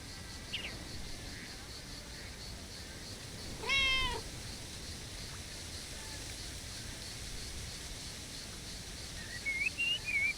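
Mortimer the cat lets out a single clear meow partway through, then faint chirpy mews near the end, over a steady outdoor background hiss by a lake.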